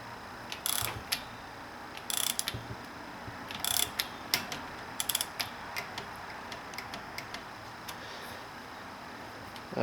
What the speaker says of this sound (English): the manual says that we need to tighten this adjusting screw to 72 inch-pounds